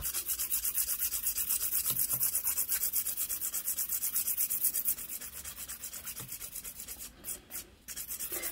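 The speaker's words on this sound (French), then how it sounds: "on va venir hop, dépolir du coup cette base cover" Fine-grit nail file buffing a base coat on a fingernail, rapid rhythmic back-and-forth rasping strokes, close and steady, briefly pausing near the end before resuming.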